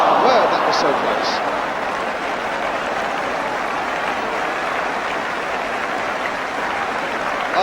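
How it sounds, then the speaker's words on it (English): Crowd applause sweeps around a football ground during a 1977-78 Tottenham Hotspur match against Brighton, a dense, sustained clapping roar from the stands with a commentator talking over it. "applause all around the ground for that"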